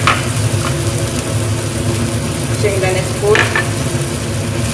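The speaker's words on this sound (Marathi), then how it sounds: "हे परतलेले आपण शेंगा घालायचे यात आणि एकदा चांगलं परतून घ्यायचं" Radish pods are sautéed with spices in a pan, a loud steady close sizzle with occasional stirring scrapes, and a brief spoken phrase over it.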